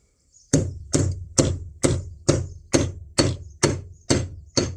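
A hammer striking a bearing on a boat trailer, nine sharp, evenly spaced metallic blows about every half second, loud and close with no talk.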